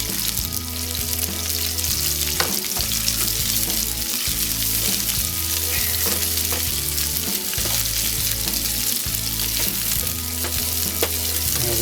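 Red onions sizzle loudly in a hot pan, a dense continuous crackle with repeated scraping and stirring strokes of a utensil and no voices over it.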